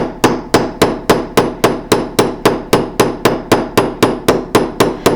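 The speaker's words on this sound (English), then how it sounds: "I really like to hammer standing up" Steady, evenly spaced hammer strikes texturing a metal wire bangle, about three per second, sharp ringing taps close by with no talking.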